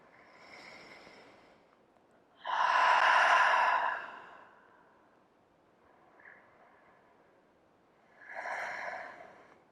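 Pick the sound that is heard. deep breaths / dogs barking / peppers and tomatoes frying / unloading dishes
deep breaths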